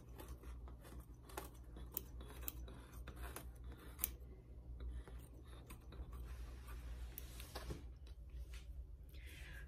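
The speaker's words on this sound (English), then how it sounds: "I'm just going to trim all of these ruffly pieces so they're nice and even along the edge of my frame" Steady snipping of duck-billed scissors trimming ruffled fabric edges, small irregular clicks and snips over a low constant background hum, close by.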